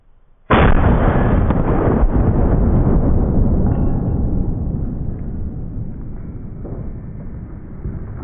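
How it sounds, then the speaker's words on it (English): A bullet slams into a cinder block: one sudden, loud, sharp blast about half a second in, followed by a long rumbling roar that slowly fades over several seconds. "the one thing I noticed on that one was the sound of that bullet impact"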